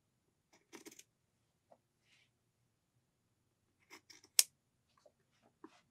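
Fabric scissors snipping through two layers of pillow fabric at once, a few sharp crisp cuts in short bursts separated by quiet pauses, close and clear.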